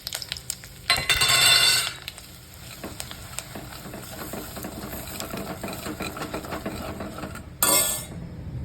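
Gram flour tipped into a low-flame tempering of mustard seeds, cumin and seven or eight curry leaves, with a loud hissing burst at the start, steady crackling sizzle throughout and another sharp hiss near the end.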